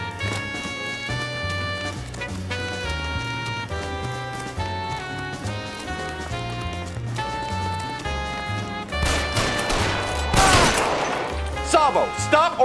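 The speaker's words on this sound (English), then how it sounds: "That mother start shooting at me. I shot him." Gunfire in the crime game L.A. Noire: a burst of loud, sharp shots near the end, over steady orchestral music.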